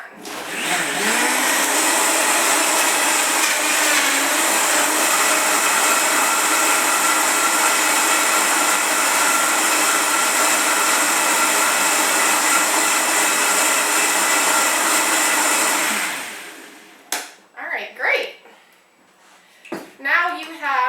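A Vitamix blender whirs at high speed, blending a detox superfood smoothie in a loud, steady roar for about sixteen seconds. It then winds down, and a voice speaks over clattering handling noises.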